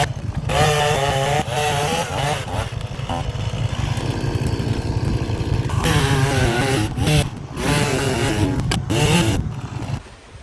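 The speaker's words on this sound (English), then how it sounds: "Time to get out the chainsaw again." Chainsaw cutting through a roadblock on a back road, its engine running loud and close for the full stretch, revving up and down in waves without pause.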